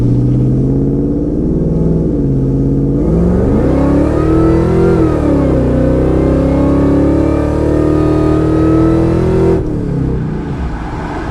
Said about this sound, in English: we'll go ahead and get in the throttle here